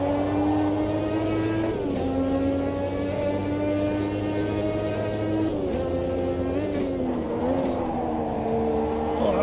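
A turbocharged race car in the Automobilista 2 sim racing game revs and accelerates, its steady, loud engine note climbing and dipping through gear changes for the whole stretch, close and continuous.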